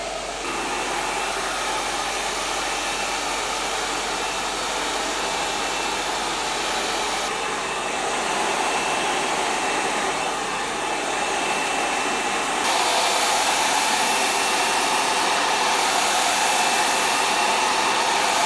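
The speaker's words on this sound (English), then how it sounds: "Blow dries in place, just gone through with a little sort of soft curl to it." A hair dryer blows continuously and steadily while styling a woman's hair into soft curls with a brush, a loud close whoosh that shifts slightly in pitch and strength as the airflow angle changes.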